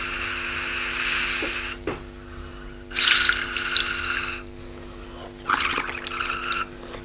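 A straw blown into lime water in a classroom experiment gives bursts of bubbling and gurgling, several separate spells of a second or so, fairly close over a low steady hum.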